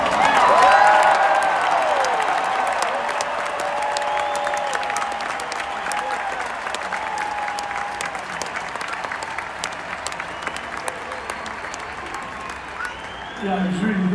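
A large stadium crowd at a concert applauds and cheers in a sustained wash of clapping, with voices rising through it before it gradually thins.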